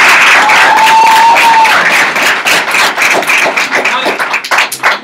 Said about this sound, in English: clap it up for them and bring the energy